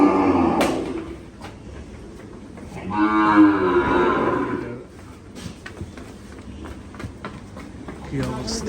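Cattle on a farm moo loudly nearby, one long drawn-out low call in the middle, with clatter and shuffling around it.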